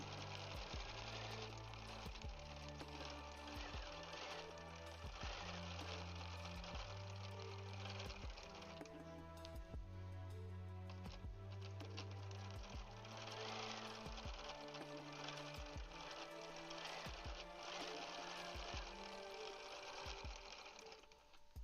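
A Bernina 790 Pro sewing machine stitches through a quilt, its needle pounding in fast, regular bursts of rhythmic thumping that keep going with short pauses, close and loud, with no one speaking.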